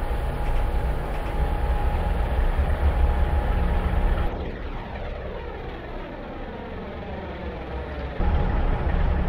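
An electric locomotive in Romania pulls forward, heard from inside the driver's cab: a steady heavy rumble with rising and falling traction whine as power comes on, no voices.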